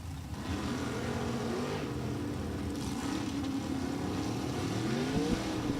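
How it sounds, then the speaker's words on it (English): A Bantam Roadster drag car with a 426 AMC engine roars loud and close at a drag strip, its engine note climbing and falling in steady revving sweeps for the whole stretch with no talk. "here we have a Bantam Roadster with an AMC engine"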